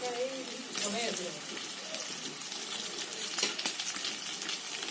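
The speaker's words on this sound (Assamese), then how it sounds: "আলুখিনি এড কৰি অলপ টাইম ভাজিব লাগিব।" Potatoes frying in a pan for an Assamese-style pork curry, with a steady sizzle and occasional stirring scrapes, and a voice speaking briefly near the start.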